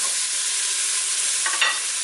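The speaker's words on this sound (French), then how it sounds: "je remue comme ça" Bacon, onions and mushroom stems fry in a pot as they are stirred, giving a loud, steady close-up sizzle with a brief scrape of the spoon near the end and no voices.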